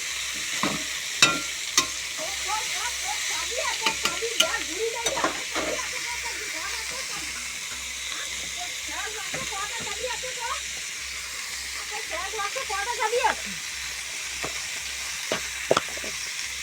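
Chopped vegetables, including brinjal, frying in a pan while being stirred, a steady close hiss and sizzle with frequent sharp spatula scrapes and knocks; a voice talks intermittently over it.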